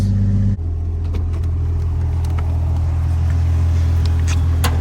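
Jeep that has sat all winter, out on a drive, its engine running with a deep steady rumble and some revving, heard from inside the vehicle, loud and continuous with small clicks and rattles.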